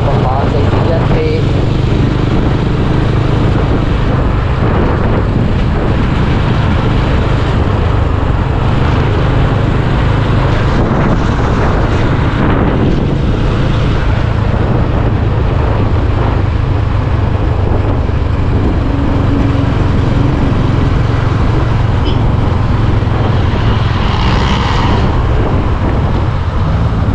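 A motorcycle engine drones steadily while riding on the road toward Tagaytay, a loud continuous rumble mixed with wind buffeting that stays up front for the whole stretch.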